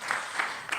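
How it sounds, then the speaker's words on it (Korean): Congregation clapping in a Korean church during an afternoon thanksgiving service, a soft blurred patter of many hands, steady and fairly faint, with no one speaking over it. "우리 사여선교 부흥을 위해서 우리 축복하는 마음으로 박수하겠습니다"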